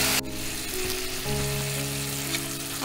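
Curry with ginger paste sizzles steadily in a pan while being stirred, a continuous close frying hiss with soft scraping, no talking.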